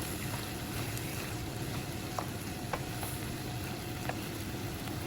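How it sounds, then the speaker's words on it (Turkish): Giresun-style green bean roast is stirred in a pan, giving a steady, close sizzle with occasional soft scrapes and taps of the spoon. "lezzetlerin birbirine geçmesi için iyice karıştırıyorum"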